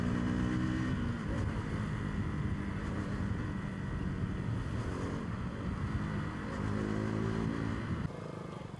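A motorcycle rides through daytime Delhi traffic toward Kalindi Kunj, with a loud, continuous engine drone and heavy wind buffeting on the microphone, and the engine tone drops near the end.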